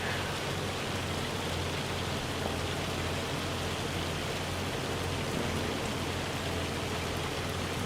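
Hailstorm in Farming Simulator 25 during a harvest, a dense, steady hiss of rain and hail drumming evenly without pause or voices.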